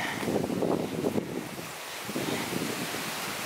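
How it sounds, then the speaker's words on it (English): Gusty wind roars across the microphone on a UK hillside, a broad rushing noise that swells and eases, with a surf-like wash underneath. "It is windy"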